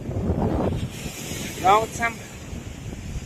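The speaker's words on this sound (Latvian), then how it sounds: "Viļņi ir ļoti lieli" Large ocean waves and wind on the Crete coast, a steady rushing roar with buffeting wind noise on the microphone, and brief faint voices in the background.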